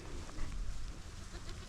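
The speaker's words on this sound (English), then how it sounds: "There's a good little buckskin kid right there." A young buckskin goat kid bleats among a mixed herd of sheep and goats browsing on overgrown land, with a low outdoor rumble throughout and no speech.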